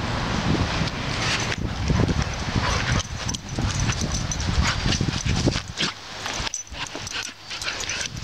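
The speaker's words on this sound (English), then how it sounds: "there's Amos barking away" A dog barks and yips amid rough play with other dogs outdoors around a frisbee, a busy, continuous scuffle of yelps and whimpers, close and fairly loud.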